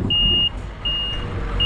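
A truck reversing up onto trailer ramps holds a loud, steady engine rumble, with a high reversing beep sounding in three evenly spaced long tones.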